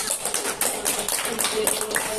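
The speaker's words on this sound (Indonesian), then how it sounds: "Tepuk tangan untuk Bila." Classroom applause, a brief burst of scattered hand clapping from a group of students, fairly close and continuous, with some voices mixed in.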